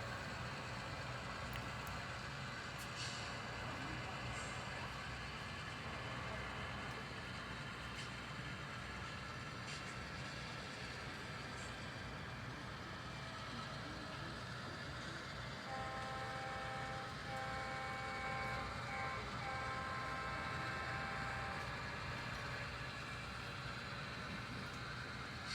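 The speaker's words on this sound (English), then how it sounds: "you can see the coal train moving from right to left" HO scale model BN coal train rolling through a miniature downtown Seattle layout: a faint, steady low rumble and clatter of small wheels over track, continuous and even, with a soft tonal hum appearing partway through.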